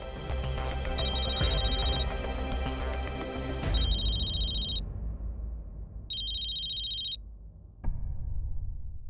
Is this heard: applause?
no